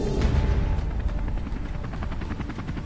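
A helicopter arriving in the Amazon roars loudly overhead, its rotor blades thumping in a rapid steady beat over a deep engine rumble.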